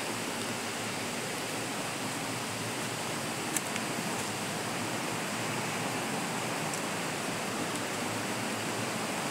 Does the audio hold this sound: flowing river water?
yes